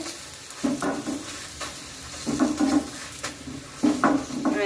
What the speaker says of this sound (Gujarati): આ રીતના આપણે દબા દબાઈને શેકી લેવાનું છે